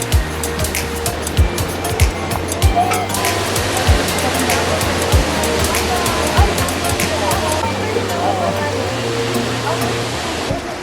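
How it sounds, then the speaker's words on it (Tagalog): A waterfall in Sagada roars with a loud, steady rushing wash of water that fills the whole scene, while nearby voices talk over it with occasional sharp knocks and bumps. "There's the falls!"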